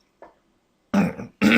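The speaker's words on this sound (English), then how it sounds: "clearing my throat because I've been talking for like probably 30 minutes" A single short throat-clear comes first, a quick rough rasp, then a pause, then two louder, heavier bursts of throat clearing close to the microphone in a quiet room.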